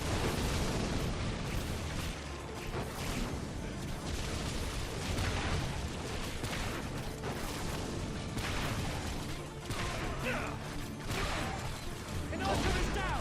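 Constant booming explosions and bursts from the video game Orcs Must Die! 2 fill the whole stretch, loud and dense with no gaps, with a voice talking over the din.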